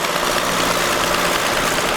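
A Fordson Major tractor, refitted with a six-cylinder combine harvester diesel engine, idles at a vintage vehicle gathering in Ackworth: a loud, close, steady rumbling drone with an even throb.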